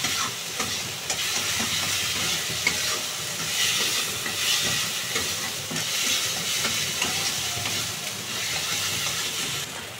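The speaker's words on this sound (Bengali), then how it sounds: "মশলাগুলো সব দিয়ে দিয়েছি, মশলাগুলো এবার মিশিয়ে নেব।" Spices for an eggplant curry stirred and fried in a pan, a steady close sizzle with frequent scraping stirs running continuously throughout, no talking.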